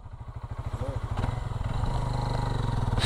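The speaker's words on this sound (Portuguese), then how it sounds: "Vou filmar o Pedrão aí saindo com a moto." A Suzuki DR-160 motorcycle pulls away, its single-cylinder engine giving a steady, pulsing throb that rises slightly as it rides off close by, with a person speaking briefly over it.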